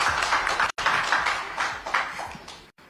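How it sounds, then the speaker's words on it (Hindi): A hall audience at a conclave breaks into loud, dense applause welcoming a guest, the clapping continuous and close, with two brief gaps. "जोरदार तालियों से स्वागत।"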